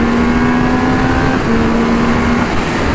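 Triumph Speed Triple 1200 RR three-cylinder motorcycle engine holding a steady high-rpm drone with a constant tone, loud and close, with no pauses or voices across the stretch.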